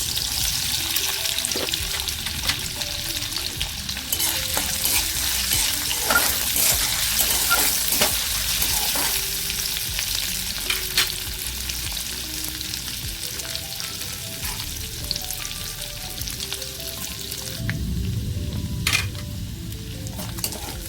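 Chopped ginger fries in hot oil with a loud, continuous close sizzle, broken by light stirring scrapes and a brief lower rumble near the end.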